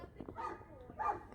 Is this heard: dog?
yes